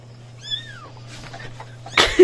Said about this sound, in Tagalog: Nahug, ang kuting, luoy.